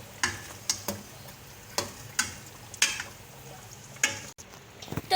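A spoon scraping and clicking against a pan while chicken masala is stirred, with a soft sizzle underneath and a series of sharp, irregular taps, close and fairly quiet.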